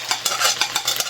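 Garlic, onion and tomato frying in a pan with pork and beans and cumin, a steady close sizzle broken by repeated scraping stirs at an even rhythm.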